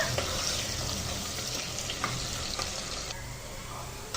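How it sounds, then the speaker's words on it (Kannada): Onions fry in hot oil for chicken sambar with a steady close crackling sizzle and occasional stirring clinks, with no voices. "ಎಣ್ಣೆ ಕಾದಿದೆ. ನಾವು ಇದಕ್ಕಿಂತ ಈರುಳ್ಳಿ ಹಾಕ್ಕೊತಾ ಇದ್ದೀವಿ. ಈರುಳ್ಳಿ ಕೆಂಪು ಬಣ್ಣ ಬರೋ ತನಕ ನಾವು ಫ್ರೈ ಮಾಡ್ಕೊಳ್ಳೋಣ."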